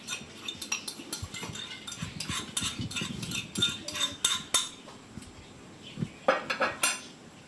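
Metal utensils clink and scrape against a wok as ingredients are tipped in, a series of sharp irregular clatters, some louder than others.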